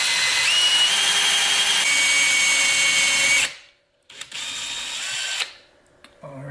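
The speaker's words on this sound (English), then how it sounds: "So I'm just gonna go in at a really shallow angle and then start drilling." Power drill boring a hole into a 4L80E transmission pump body, a loud steady whine for several seconds, a brief stop, then another shorter burst of drilling.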